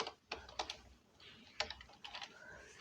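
A web address is typed on a computer keyboard: quick, light key clicks in short irregular bursts, close and fairly quiet, with no voices.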